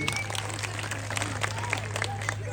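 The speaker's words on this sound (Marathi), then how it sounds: "सगळ्या एन्जॉय करताय, जरा जोरात टाळ्या वाजल्या पाहिजे" An audience at a haldi-kumkum gathering claps in a rapid spatter of hand claps, with voices and a low steady hum underneath.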